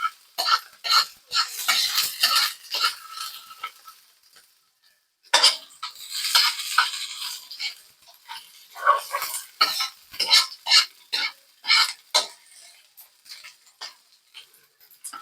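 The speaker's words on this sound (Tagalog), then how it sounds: "Lagyan natin guys yung sibuyas." Onions frying in a pan while a utensil stirs and scrapes against the metal, giving repeated clinks and scraping strokes over a soft sizzle, close up, with a short pause partway through and no talking.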